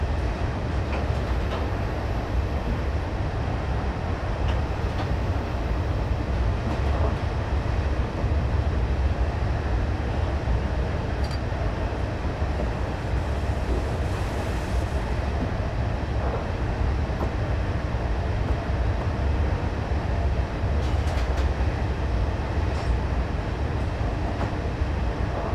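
An HST train in Train Simulator 2016 rolls between Cardiff Central and London Paddington, a steady, loud rumble of engine and wheels droning without pause, with faint occasional clicks over the continuous running noise.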